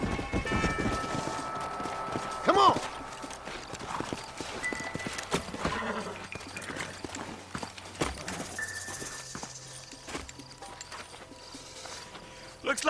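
Horse hooves clip-clop at a steady walking rhythm in a Red Dead Redemption game scene, mixed with game ambience, a brief whinny-like sound, and a man calling out.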